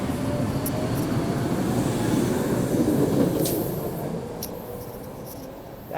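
A Boston subway train rumbles past on the old line, a loud rolling roar with rail squeals that fades toward the end, with no voices.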